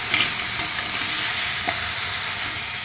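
Crabs frying in a wok while being stirred, a dense, steady sizzle and crackle with faint scraping of the stirring.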